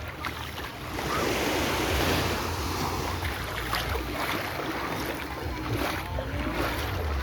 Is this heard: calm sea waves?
yes